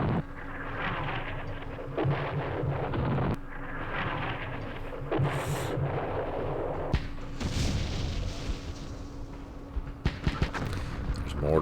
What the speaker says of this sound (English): There's mortars here.